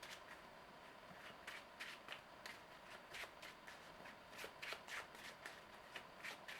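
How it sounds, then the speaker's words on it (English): A deck of Marvel Legendary cards being shuffled, with repeated quick riffling bursts of crisp card flutter at close range and no talking. "Then we have to shuffle our deck."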